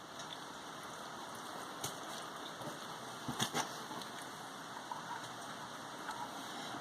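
Engine oil drains from a 1952 Ford 8N farm tractor into a pan, a faint continuous trickling stream with a few soft splashes and taps, no talking.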